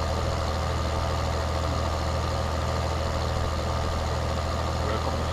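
A tractor engine in Farming Simulator 2013 idles with a steady, loud low rumble that holds unchanged throughout, with no voices over it.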